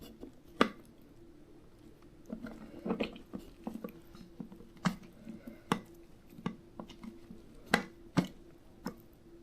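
A hand squeezes homemade butter, making soft wet squelches and clicky, sticky ticks in an irregular rhythm, close and quiet, with no voices.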